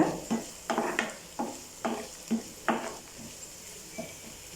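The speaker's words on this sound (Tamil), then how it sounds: "இப்போ இதை இஞ்சி பூண்டு விழுதோட பச்சை வாசனை போகிற அளவுக்கு நல்லா வதக்கிக்கங்க" Crushed ginger and garlic sauté in a pan over a soft, continuous sizzle. A spoon stirs in regular, close strokes, giving about ten rhythmic scraping swishes.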